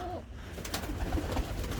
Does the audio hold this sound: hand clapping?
no